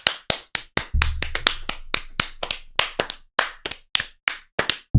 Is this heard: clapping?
yes